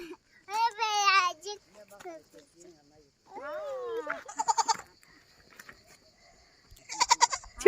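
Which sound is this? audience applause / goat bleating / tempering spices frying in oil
goat bleating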